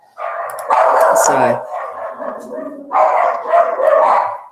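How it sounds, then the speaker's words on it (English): Several dogs bark excitedly indoors in bursts, reacting to something outside, mixed in with a person talking over them. "the dogs are going nuts because obviously there might be someone going for a walk outside"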